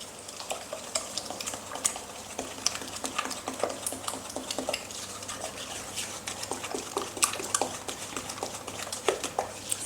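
A wooden spoon beating caster sugar and medium eggs together in a bowl, producing quiet, rapid scraping and tapping strokes in an irregular rhythm, close and fairly faint throughout.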